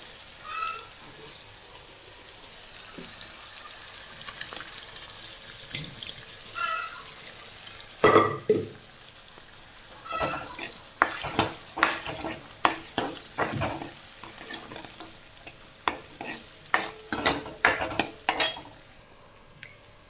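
Cooked moth bean dal being stirred into a pan with a spoon. Close, uneven scraping and clinking strokes get busier and more rhythmic in the second half, with no talking.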